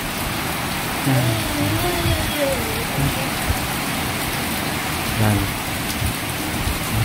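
Heavy rain pours down in a steady, dense roar that fills the whole stretch, with a voice speaking briefly over it a couple of times.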